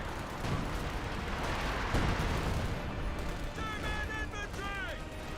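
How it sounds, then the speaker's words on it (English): Sustained MP40 submachine-gun fire in the Company of Heroes 2 battle game, mixed into a dense, rumbling barrage of distant explosions and artillery that runs without a break. "MP40 is firing away, hitting the captain."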